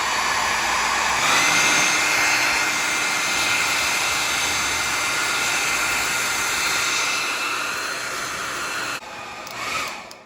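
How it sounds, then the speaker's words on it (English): A hair dryer blows steadily with a loud, continuous whooshing roar for most of the clip, then cuts off near the end. "Gonna grab your hair dryer."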